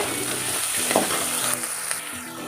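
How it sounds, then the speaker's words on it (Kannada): Onions fry with salt in a pan, giving a steady close-up sizzle and crackle with a few soft stirring scrapes and no talking. "ಉಪ್ಪು ಹಾಕಿ ಫ್ರೈ ಮಾಡ್ಕೊಳ್ಳಿ ಆವಾಗ ಈರುಳ್ಳಿ ಬೇಗ ಫ್ರೈ ಆಗುತ್ತೆ"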